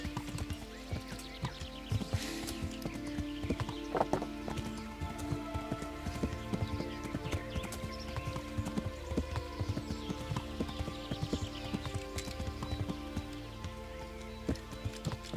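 Horse hooves clip-clop steadily in the medieval game Kingdom Come Deliverance, producing a continuous patter of close, evenly spaced hoof falls over faint ambient noise for the whole stretch.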